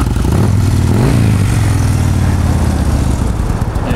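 A Kawasaki Nomad VN1600D motorcycle engine, loud and close, runs with a deep steady rumbling idle that wavers slightly near the start and then settles into an even throb.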